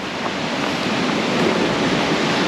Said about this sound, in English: I was looking at the ocean.